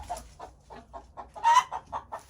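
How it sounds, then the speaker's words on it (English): Chickens from a farm flock clucking close by in a steady series of short, rhythmic clucks, with one louder squawk partway through and no talk. "I've never had a batch of chickens that flies more than these ones."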